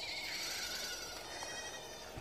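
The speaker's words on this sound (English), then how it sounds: "We're gonna be awfully close to some goats." A group of goats bleats nearby, their overlapping cries forming a continuous noisy chorus with no talking.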